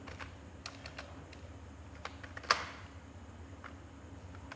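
Keys tap on a computer keyboard while text is entered into a Word document, a sparse series of light clicks at an uneven rhythm with one sharper, louder strike partway through, close and quiet with no speech.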